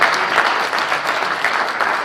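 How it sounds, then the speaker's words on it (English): A crowd claps steadily and densely for about two seconds, a loud, even wash of applause with no break. "Big round of applause"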